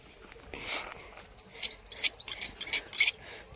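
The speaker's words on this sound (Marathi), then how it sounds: "आमची पिताश्री चाकूला धार लावताय" A knife is sharpened outdoors on a village farm with a series of quick rasping strokes, sparse at first and then coming in a brisk irregular run. Birds chirp steadily in the background, and no one speaks.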